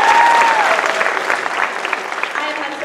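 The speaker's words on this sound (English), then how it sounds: "let's give them a round of applause" Audience applause at a Miss Harvest Homecoming pageant, a dense sustained wash of many hands clapping close by, with some voices and cheering mixed in throughout.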